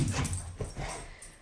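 A dog makes short vocal sounds, a mix of whimpers and yips, close by with some low rumbling in the background.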